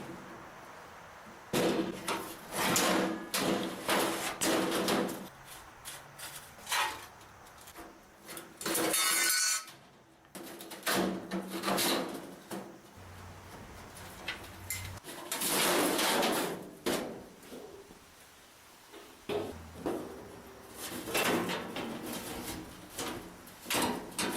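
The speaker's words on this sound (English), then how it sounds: "Take this bread box lid off." Metal parts of an old cookstove clatter and scrape as the bread box lid is worked off, a long series of close, loud knocks, slides and rattles with short pauses between.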